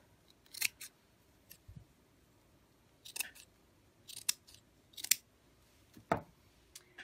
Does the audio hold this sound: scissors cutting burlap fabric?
yes